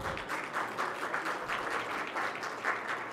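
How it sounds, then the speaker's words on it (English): Continuous applause from an audience at an urban planning session on solid waste management in cities, a thick wash of clapping hands at moderate level with gentle swells, no speech over it. "Well, our lead speaker, Mr. Kulwant Singh, can we have a loud applause, please?"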